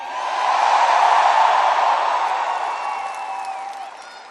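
A political rally crowd in Richmond, Kentucky cheers and applauds in a broad, sustained roar that swells and then slowly fades, with whoops rising above the clapping.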